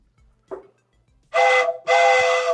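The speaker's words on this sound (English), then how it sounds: "He's got the train whistle." Buzzer for a trivia game show podcast sounding like a train whistle: a brief soft blip, then two loud, sustained tonal blasts in quick succession, close and alone.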